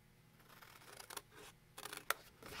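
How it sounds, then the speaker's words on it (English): Scissors snip through scored paper at an angle in a few close, crisp bursts spaced irregularly, with no talking. "we're going to take our scissors and we're going to cut from"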